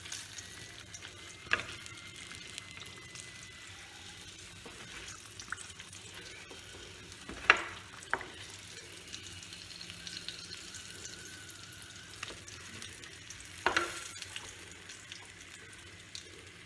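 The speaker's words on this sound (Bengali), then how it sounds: "এবার এই দুটো বসিয়ে এই দুটো ভাজা করে আপনাদের কাছে আমি আবার ফিরে আসছি" Katla fish pieces frying in a pan give a steady low sizzle with a few sharper crackles and spatters, heard alone without talk.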